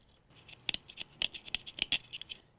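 Light plastic scraping and clicking in a quick irregular series, close and dry, as the plastic base of a Hot Wheels Twin Mill toy car is rubbed against a surface.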